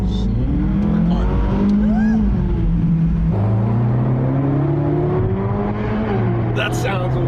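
In a racing video game, a Ferrari engine roars and revs, its pitch climbing and dropping through gear changes in a loud continuous drone, with a brief higher squeal near the end.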